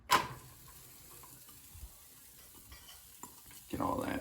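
Chopped onion hits a pan set to medium for refried black beans, with a faint, low sizzle and a few light clinks and stirring sounds. A louder rustling scrape comes near the end, and no one speaks.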